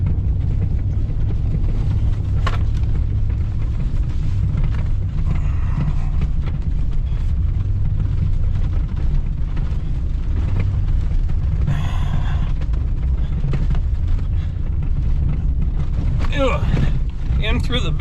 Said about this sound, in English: It's a bumpy ride because all this snow is rough getting through. So we got her in 4-wheel drive